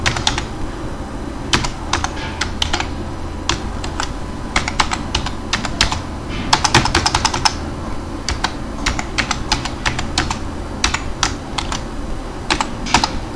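Steady computer keyboard typing while programming UART transmit functions for an Arm Cortex M4, with irregular bursts of crisp key clicks, brief pauses and occasional faster runs, close and clear.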